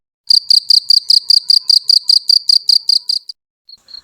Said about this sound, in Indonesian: Yang keempat, ada suara jangkrik.